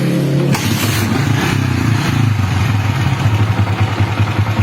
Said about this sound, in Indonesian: Kita engkol, kita hidupkan motornya.